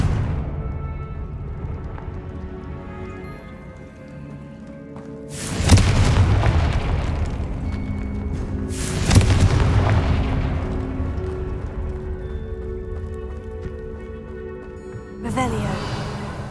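A Confringo explosion spell blasts in the video game Hogwarts Legacy: three loud, deep booms with rumbling tails, set against a steady game soundscape and a voice.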